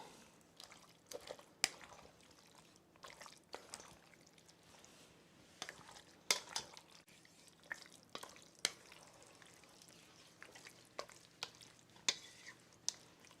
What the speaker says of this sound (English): Stir this all up.